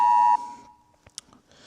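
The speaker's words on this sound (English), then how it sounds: "This is the emergency test on your phone." Government emergency alert test tone sounding from a phone, a loud steady beep cutting off after a moment, followed by faint clicks and handling noises.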